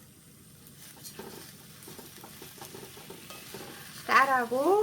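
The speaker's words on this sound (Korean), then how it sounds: "그 다음에 여기 양념한 시래기 넣으시고, 그 다음에 쌀 2컵 같이 넣어서 얘를 볶아주세요" Rice stir-frying with seasoned dried radish greens in perilla oil, soft scraping and stirring sizzle, then someone speaks briefly over it near the end.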